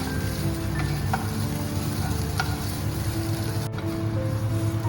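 Pointed gourd peel paste frying in a pan on a gas stove, a loud, steady sizzle that continues throughout with occasional scrapes of stirring, no voices.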